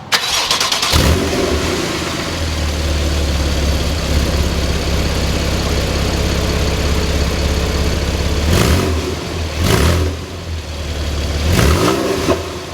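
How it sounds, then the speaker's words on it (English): A warm 2015 Porsche 911 Targa 4S fires up with a sharp starter catch and a loud flare, then settles into a steady, throaty idle broken by several quick revs close by. "This is a warm startup of this Porsche Targa."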